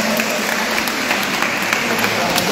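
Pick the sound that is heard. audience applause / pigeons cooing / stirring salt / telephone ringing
audience applause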